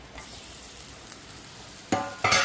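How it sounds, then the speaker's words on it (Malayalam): Four chopped shallots and salt frying in hot coconut oil, a soft steady sizzle with light stirring, then two sudden louder bursts of crackling near the end as more goes into the pan. "ചൂടായി വന്ന വെളിച്ചെണ്ണയിലേക്ക് ഒരു 4 ചെറിയുള്ളി ഇങ്ങനെ അരിഞ്ഞതും പാകത്തിന് ഉപ്പും കൂടി"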